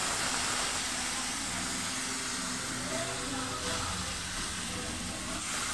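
A spice paste of cumin powder, coriander powder, green chilli and Kashmiri chilli fries in a pan, giving a steady, loud broadband sizzle and hiss that holds evenly throughout.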